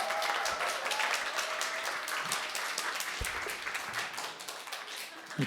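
A crowd at a youth cultural festival applauds a singer, loud sustained clapping throughout with a faint tonal hum underneath and no talking.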